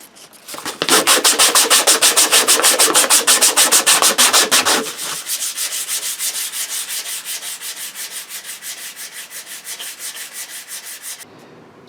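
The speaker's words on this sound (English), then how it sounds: "We'll start some sanding and stuff now as well to take off all the sharp edges" Wooden neck of a custom Strat-style guitar sanded by hand to round over the edges, rapid rhythmic rasping strokes, loud and close, easing to a softer steady rubbing partway through.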